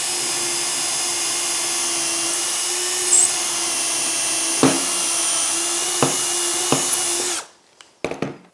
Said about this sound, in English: I can now drill this.